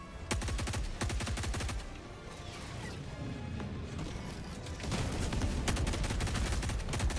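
Rapid weapon fire from a battle in Helldivers 2 comes in dense bursts, with a brief quieter stretch of crashes and debris in the middle before the firing picks up again. No one speaks.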